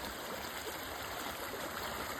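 Rainwater running after two hours of heavy monsoon rain, a steady, even rushing wash like a stream, close and continuous with no voices.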